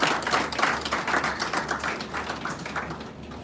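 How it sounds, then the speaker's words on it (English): An audience applauds Dr. Akiba at a university incubation campus launch, a steady crowd clapping of many hands throughout, moderately loud and somewhat distant, with no speech over it. "Please, a round of applause for Dr."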